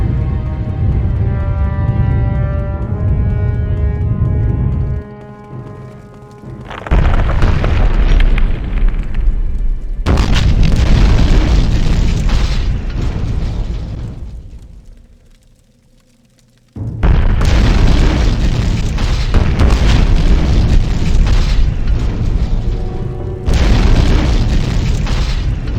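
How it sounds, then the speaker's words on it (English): Deep booming explosions in the video game Morrowind as the giant Akulakhan is destroyed, loud sustained blasts rolling in long waves with a brief quiet lull between them. "The Nerevarine is too cool to look at explosions."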